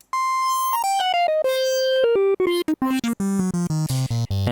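Phase Plant synth lead using the Newspeak formant vocal wavetable from the vocals folder, playing a descending sequence of bright, vowel-like notes that speed up into quick staccato steps, loud and alone.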